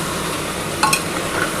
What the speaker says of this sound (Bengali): দিয়ে ভালো করে একটু নাড়াচাড়া করে নিচ্ছি আমি।